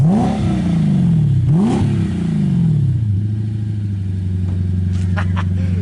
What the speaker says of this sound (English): This is aftermarket exhaust, right?